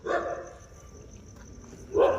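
A dog barks outdoors at night in a lane, two short bursts about two seconds apart with a quieter stretch of street ambience between them.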